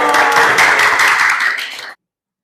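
A classroom of students claps for group 4, a brisk burst of close, loud applause that cuts off abruptly just before two seconds.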